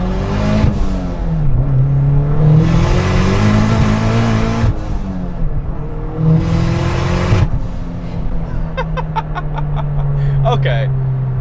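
A 500 HP Caliber SRT-4 pulls hard in first gear, its loud, close engine note climbing steeply twice before settling, with a rushing turbo hiss and a few sharp fluttering chirps near the end.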